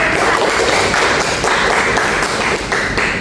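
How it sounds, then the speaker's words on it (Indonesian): Audience clapping during a talk on social media etiquette, a loud, dense and continuous patter of many hands with slight surges, no voices over it. "tepuk tangan dong buat"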